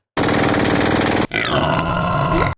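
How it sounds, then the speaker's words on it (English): A loud, heavily distorted heavy metal guitar chord blasts out abruptly, then gives way to another gritty, sustained distorted tone until it cuts off. "A metalhead might find themselves more deeply moved by a chord that sounds like this."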